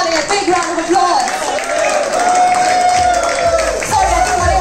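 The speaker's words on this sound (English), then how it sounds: "Everybody, please give Molly a big round of applause" Applause and cheering from a gala night crowd, continuous clapping mixed with whoops and loud voices, with music or sustained tones ringing through the noise.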